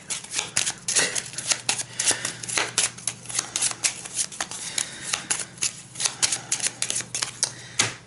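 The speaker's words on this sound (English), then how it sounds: "So I will take that into my hand and shuffle these 3 back into the deck" Game cards from a fantasy card game are shuffled by hand back into a deck close up, a rapid series of crisp papery riffles and flicks with no talk.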